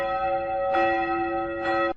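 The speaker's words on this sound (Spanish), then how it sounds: "campanas" Church bells ring in two strong peals with a steady sustained tone between them, loud and close, with no voices.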